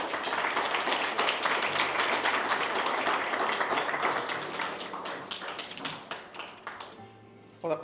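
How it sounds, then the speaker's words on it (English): An audience claps after a speech at an Australia-India business launch event in Brisbane: dense, steady applause of many hands that thins out and fades toward the end. "just give him another round of applause"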